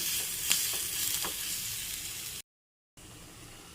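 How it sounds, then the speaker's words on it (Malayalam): Sliced onions fry in oil in a pan, giving a steady close hiss and sizzle with a few light stirring taps, briefly cut off by a short dropout before the sizzle returns. "ഉള്ളി മാത്രമായിട്ട് മൂപ്പിച്ചിടുകയാണ്"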